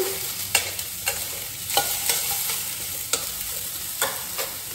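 Eggplant fries in hot oil in a pan, a continuous sizzle marked by about seven regular scraping strokes of a spoon stirring it, close and fairly quiet, with no talking.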